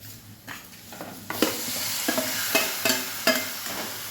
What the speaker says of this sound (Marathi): आता स्लो गॅसवरती आपल्याला हे छान परतून घ्यायचं आहे छान मिक्स करून घ्यायचं आहे